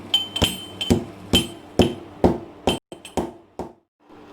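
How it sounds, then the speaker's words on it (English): Licorice root being coarsely ground for an Ayurvedic immunity tea, heard as about a dozen sharp, ringing pestle strikes in an irregular rhythm, close and fairly loud with no talk. "Licorice. Coarsely grind it."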